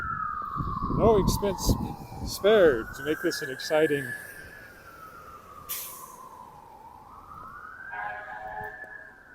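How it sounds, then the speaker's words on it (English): A fire engine siren wails past on a downtown street in Regina in mild February weather, loud and sweeping up and down, while someone talks over it and traffic rumbles nearby. "there goes fire engine"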